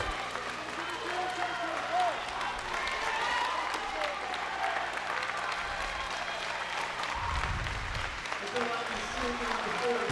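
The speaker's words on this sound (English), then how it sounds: "What a great hand he's getting from the crowd here." A basketball crowd at a 2005 USCAA national championship game gives sustained, loud applause and cheering for a senior player fouling out, a continuous roar of clapping filling the arena with an announcer talking over it.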